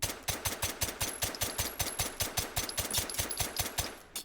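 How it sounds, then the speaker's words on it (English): A rifle fitted with a suppressor fires a fast, regular string of muffled shots, about five per second, in a continuous burst lasting several seconds at moderate loudness. "Let's try it with a suppressor."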